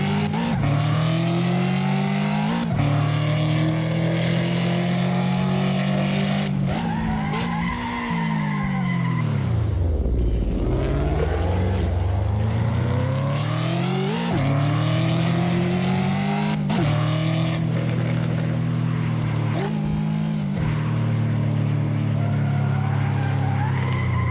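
Race car engines in an Assetto Corsa Ford versus Ferrari battle roar loudly and continuously, gear shifts and revs rising and falling, with a deep dip and climb mid-run as tires squeal and skid through corners.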